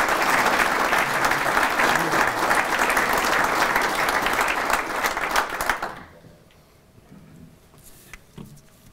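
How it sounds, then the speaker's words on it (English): Sustained audience applause, loud and dense for several seconds, then abruptly dropping away to a quiet room with a few scattered claps. "Let's give Mike a round of applause."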